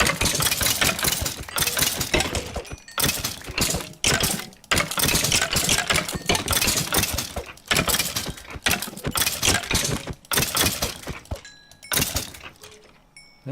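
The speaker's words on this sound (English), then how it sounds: "we can hear lots of bones clunking around" Skeleton bones clunking and dropping in a Minecraft-style XP farm, a dense, continuous stream of hollow clatters and thuds in bursts, loud and close, with no voices.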